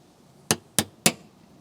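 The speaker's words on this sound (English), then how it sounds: "So I just push it with a slight tap of a hammer" A hammer taps a Torx 10 socket three times to push clip pins into a BMW X5 DMTL pump, giving sharp, bright metallic clinks evenly spaced within about half a second, close and clear over quiet.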